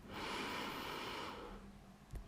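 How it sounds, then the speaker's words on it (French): A single deep breath drawn in through the nose during a relaxation exercise, steady and fairly soft, fading out near the end with a small bump of noise. "je vous invite à prendre une belle respiration par le nez"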